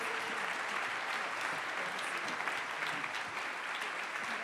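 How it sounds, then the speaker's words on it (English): Sustained applause from an audience at an annual faith network award dinner, steady and dense throughout, with no voices over it. "Let's give them a round of applause."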